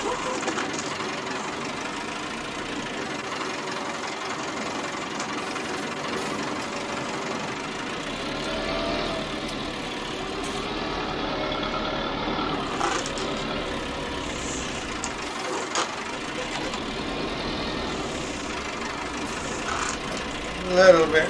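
A farm tractor engine idles and runs on a snowy cattle farm, a low steady mechanical hum with faint knocking that continues for the whole stretch, with some quiet sounds over it.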